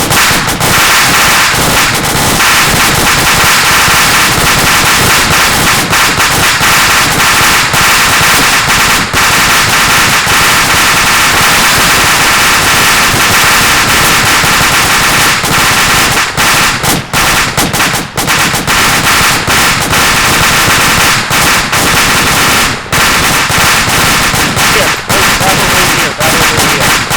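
A fire team drill fills the air with dense, continuous volleys of loud, rapid gunfire crackling like firecrackers, overlapping shots running nearly nonstop with brief shouted voices mixed in.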